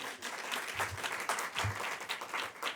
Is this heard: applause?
yes